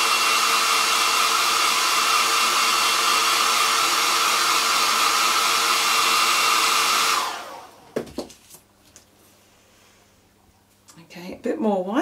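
A hair dryer blows a loud, steady whir while drying acrylic paint on a bee painting, then cuts off; afterward a voice speaks briefly amid small handling sounds.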